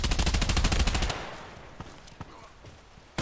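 Rapid automatic gunfire from a precise weapon in the video game Contract Wars: a loud, close burst of evenly spaced shots for about a second, then quieter scattered single shots and echoes trailing off.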